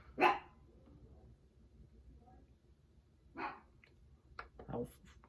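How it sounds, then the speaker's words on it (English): A dog barking in the background at home, a few short sharp barks spaced apart, moderately loud, with some faint room noise between them. "I'm gonna fight my dog, but you could probably hear him."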